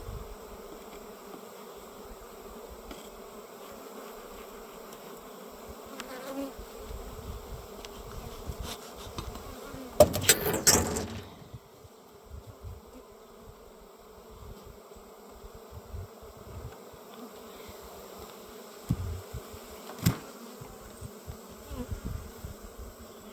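Honeybees buzz steadily in a dense, continuous hum at an open hive, with a louder close burst around the middle as bees swirl near.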